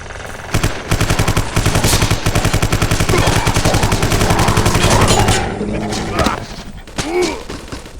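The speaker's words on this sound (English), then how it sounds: "those are just a human shooting at me" Rapid automatic gunfire from a human enemy in the video game Vivisector: Beast Within comes in long, dense bursts with heavy thuds, then tapers into scattered shots and impacts near the end.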